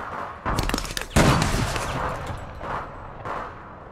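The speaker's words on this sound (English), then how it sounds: "Someone's trying to shoot her." Gunfire in the online game APB Reloaded: loud bursts of shots, with a heavy blast near the start and a sustained barrage after it, followed by quieter sporadic shots and no one talking.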